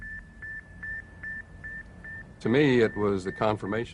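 A faint electronic beep from the Sputnik satellite's radio signal pulses in a steady rhythm against static hiss, then a voice starts talking over it.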